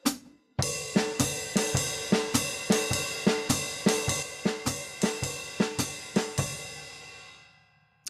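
Drum set plays a jazz Stick Control exercise as swung eighths. Evenly spaced, crisp strikes with ringing cymbal wash run in a steady loping rhythm, close and clear with no talking, then ring out at the end.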